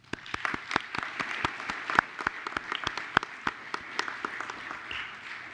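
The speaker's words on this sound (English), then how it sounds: "Let's applaud after each proclamation and not in between every comment that's made." Applause from the audience at a school board meeting: a room of people clapping steadily and evenly for several seconds, dense and moderately loud, with no talk over it.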